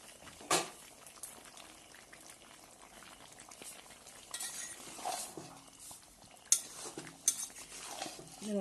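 A spoon stirring fried potatoes into a simmering chicken biryani pot, with a soft bubbling background and several scattered metallic scrapes and clinks against the pot, close and fairly quiet.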